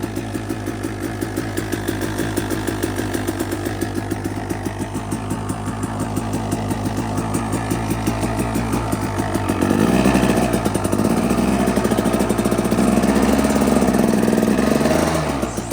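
Dirt bike on pure ice in freezing cold, engine buzzing steadily and close, then revving louder as the tires spin for the last few seconds.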